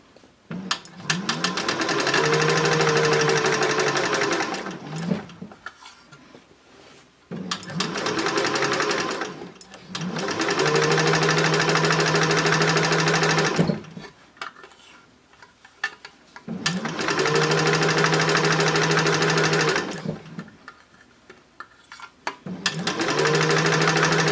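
A sewing machine stitches side panels of a tote bag made from upcycled denim jeans, running in four sustained bursts with short pauses between, close and steady with a faint rising whine as each seam starts.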